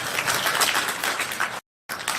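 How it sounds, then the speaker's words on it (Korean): Applause for a secretary general at an environmental protection forum in Gwangju: a dense, steady crowd clapping, broken by a brief silent gap before it continues. "우리 김민숙 사무총장님 박수 부탁드리겠습니다"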